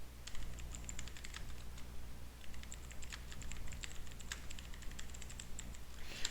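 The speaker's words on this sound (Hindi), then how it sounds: "एंड फुल नेम मैं टाइप करता हूँ यहाँ पे" Typing on a computer keyboard while filling in an Excel sheet: a steady stream of soft, quick key clicks with irregular rhythm, close but quiet, with no voices.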